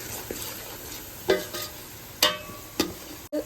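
Chilli chicken stirred in a pan over steady sizzling, with three or four distinct scraping strokes of the spoon against the pan at a relaxed pace.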